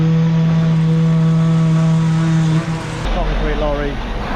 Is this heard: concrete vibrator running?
yes